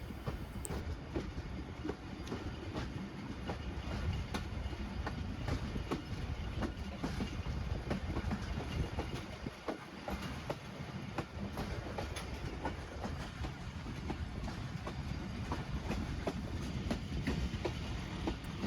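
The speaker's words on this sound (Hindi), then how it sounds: "नहर के ब्रिज पर कुछ मरम्मती काम चल रहा था जिसके बायस हमारी ट्रेन को 10 की रफ्तार से गुजारा जा रहा है।" A Pakistan Express passenger train creeps across a canal bridge at about 10 km/h during repair work, with a continuous low rumble and rhythmic clickety-clack of wheels over rail joints, close and steady throughout.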